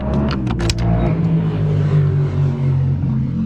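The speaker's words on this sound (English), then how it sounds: "They're motorcyclists that come here, and they would race up and down." Motorcycles race up and down a street in Idaho Falls, their engines droning and rising in pitch in a loud, sustained roar with a few sharp bursts early on.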